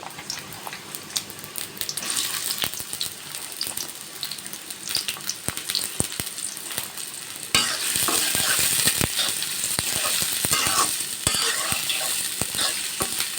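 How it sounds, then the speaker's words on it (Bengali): Chopped onions hit hot oil in a pan and sizzle steadily, with stirring scrapes and a louder burst of frying partway through, close and continuous. "তেল গরম হয়ে গেছে এখন আমি পরিমাণ মতো পেঁয়াজ কুচি দিয়ে দেবো"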